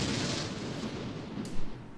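An explosion in the war strategy game Syrian Warfare sounds as a broad, rumbling blast that rolls and decays, followed by a sharper crack near the end, with no talking.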